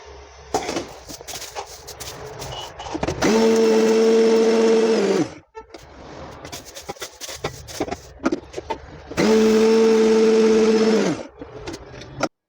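A kitchen mixer grinder grinding dal for a drumstick leaf podi whirs loudly in two long bursts of several seconds each, separated by quieter pauses filled with clinks and handling noises.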